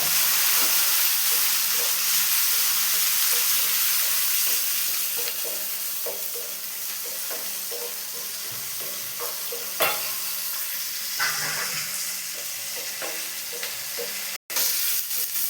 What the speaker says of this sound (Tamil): தக்காளி போட்டுருவாங்க அதுவும் நல்லா டீப்பாக ஃப்ரை பண்ணிக்கிறோம்